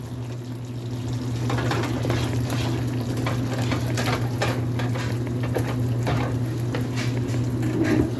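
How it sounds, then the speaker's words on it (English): Cheese is stirred into a hamburger dip in a pan: a continuous moist, bubbling sizzle with repeated utensil scrapes against the pan, steady and close, over a low background hum. "I'm stirring up the cheese in there."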